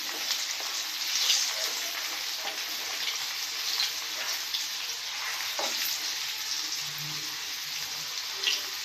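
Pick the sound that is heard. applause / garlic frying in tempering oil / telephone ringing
garlic frying in tempering oil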